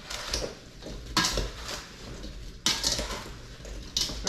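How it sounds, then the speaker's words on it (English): Apple slices with cinnamon stirred in a bowl, a spoon scraping and clinking against the sides in several distinct sweeps, close and clear with no talk. "Stir it up."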